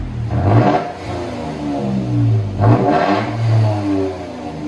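Toyota Tacoma TRD 4x4 with a 3.5L V6 and a Black Widowmaker exhaust revving twice, each deep throaty rev swelling and then falling back to a rumbling idle, loud and close.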